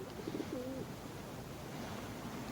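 Pigeons cooing softly with a short low coo early on, set against a steady background wash of noise.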